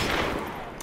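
Desert Eagle pistol fire in Modern Warfare Remastered, a dense burst of loud, close gunshots filling under a second of game audio, tailing off slightly near the end.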